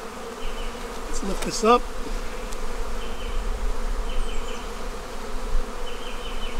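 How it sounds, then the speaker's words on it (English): Honeybees drone steadily around a busy, crowded hive during an open inspection, a dense close buzz throughout, with a brief spoken remark near the start. "Oh, this is a busy hive."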